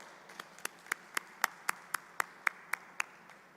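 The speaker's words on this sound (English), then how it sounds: "A round of applause, please." Clapping at the American University of Nigeria Founder's Day ceremony: a dozen crisp, evenly spaced hand claps in a steady rhythm, fairly close and distinct over a quiet room.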